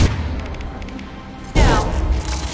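Heavy weapon fire in Mass Effect 2 lands as a single loud, sudden boom with a broad crash partway through, ringing out over a low rumbling background.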